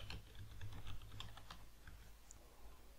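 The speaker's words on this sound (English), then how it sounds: "Again, confirm your password, type the same password." Quick, light keystrokes on a computer keyboard as a password is typed, a brisk run of soft clicks for about a second and a half, then a few sparse taps, quiet and close.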